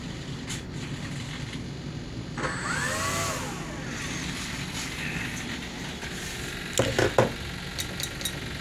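A Volantex/Lanyu ASW 28 RC glider's electric motor engages as the throttle comes up, a steady whirring hum beneath a rising, sweeping whine, with a few sharp clicks and handling noises near the end.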